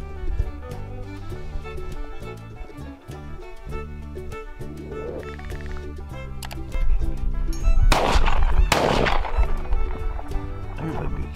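Over/under shotgun blasts while dove hunting outdoors, with two loud sharp reports close together near the end over a background of music-like tones and someone talking.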